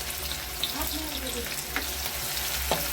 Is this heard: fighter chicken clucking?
no